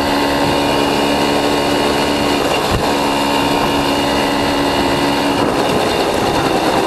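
A dual sport motorcycle engine drones loud and steady while riding on forest roads in the Czech Republic. Wind rush blends with the continuous engine hum throughout.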